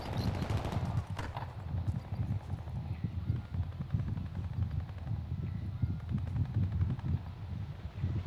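Video game gunfire sounds as steady rapid automatic fire, fairly faint and continuous, with bursts running through the whole stretch under a low rumbling background.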